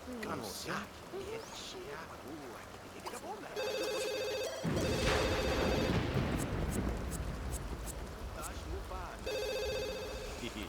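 A telephone rings in repeated bursts with a steady electronic tone in The Sims 2, set against game music, rumbling rain and a voice talking.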